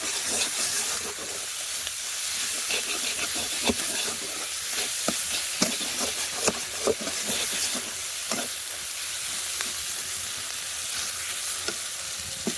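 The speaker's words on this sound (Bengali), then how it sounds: "আর একটু কিন্তু কাশ্মীরি লঙ্কার গুঁড়ো দিয়ে খুন্তি দিয়ে আর একটু ভালো করে নাড়াচাড়া করব।" Spices with turmeric, salt and Kashmiri chili powder sizzle in oil for an eggplant and potato curry while a spatula stirs them, giving a steady hiss with scattered scrapes and pops, close and continuous, no voices.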